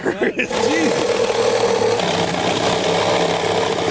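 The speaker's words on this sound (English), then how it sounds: "I don't know if this Sawzall is gonna make it, buddy. Man, this thing's rattling like Grandpa's old tractor." A Sawzall reciprocating saw cuts open a metal water heater with a loud, steady rattling buzz that runs nearly the whole time after a short start, a voice briefly heard at the beginning.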